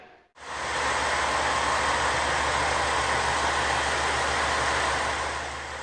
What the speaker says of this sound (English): The diesel engine sounds great